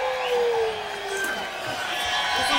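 A boxing arena crowd in Laredo roars continuously during a title fight's final round, a broad steady wash of cheering and shouts with a commentator talking over it.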